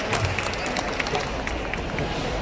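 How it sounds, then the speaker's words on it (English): At the Penang Lang Community Day gathering at Gurney Paragon, a crowd claps faintly and steadily, scattered claps blending into a soft, continuous patter heard from a distance. "Let's give them a round of applause"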